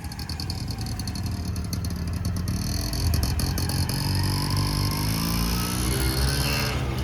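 A car engine runs steadily for the whole stretch, close and fairly loud, with low rumbling tones shifting in pitch as the vehicle is driven by a new driver, and no talk over it.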